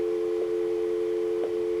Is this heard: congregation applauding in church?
no